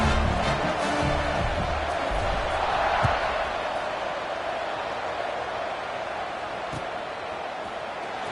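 A football stadium crowd at a Nebraska versus Michigan game waits for a kickoff, a broad, steady roar that stays loud and even the whole way through, with a few faint thuds.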